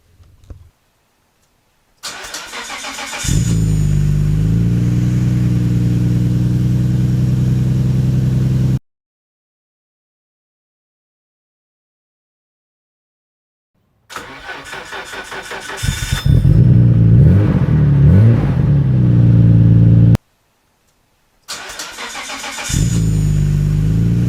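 A Nissan R32 Skyline engine with a new Optima battery cranks and starts, then idles steadily; after a pause it is started again with some revving, then another start follows.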